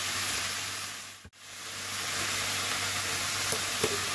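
Tomatoes, black pepper and salt fry in a pan for beef potato balls, giving a steady close sizzle that cuts out briefly midway, then resumes with a couple of small clicks.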